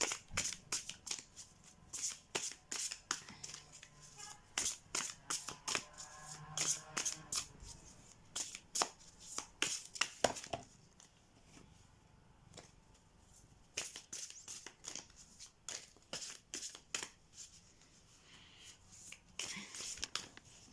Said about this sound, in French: J'adore mélanger les cartes.